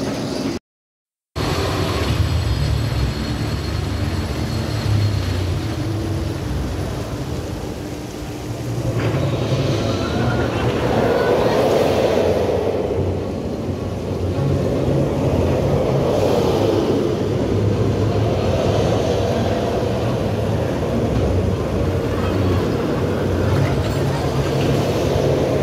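Rumbling wheels and track noise of the Wonder Woman roller coaster at Six Flags Fiesta Texas, heard from a back-row seat, a continuous loud roar that swells and dips with wind buffeting over the whole ride.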